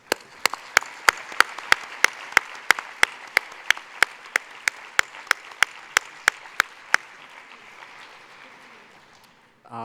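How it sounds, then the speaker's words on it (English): An audience at a UN NGO conference applauds, with one close pair of hands clapping sharp, evenly spaced beats over a softer crowd wash that fades away near the end. "I think we all owe him a round of applause"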